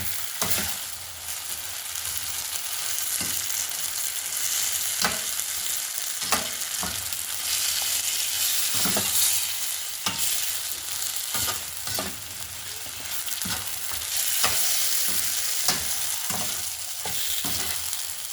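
Crispy fried chicken is stirred with barbecue sauce in a hot pan, making a steady sizzle broken by regular scraping strokes of a spoon, close and fairly loud, with no talk.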